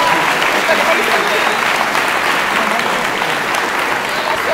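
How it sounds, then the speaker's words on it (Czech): Applause for the winning couple at a secondary-school beginners' dance class, a dense, steady wash of many hands clapping at close range that fills the whole stretch without a break. "Takže potlesk!"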